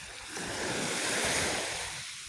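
A sea wave rolls in and washes up a quiet beach shore in Zamboanga, swelling to a broad hiss and then fading back, with no voices.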